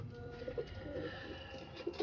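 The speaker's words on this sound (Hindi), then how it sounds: "ये देखिए, सारे कबूतर यहाँ पर हैं।" Pigeons cooing softly in a breeding loft, a few low murmuring coos repeating close by against a quiet background.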